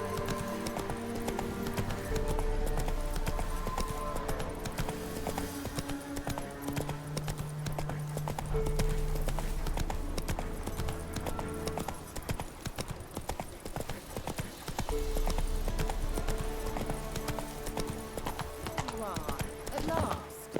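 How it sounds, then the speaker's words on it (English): Horse hooves clop steadily on the ground in The Witcher 3, a continuous rhythmic beat running under a dense game music score throughout. "Come on, Roach."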